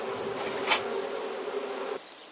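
Steady buzzing of many honeybees around a hive, close and continuous, with one bee passing nearer partway through before the sound drops off abruptly.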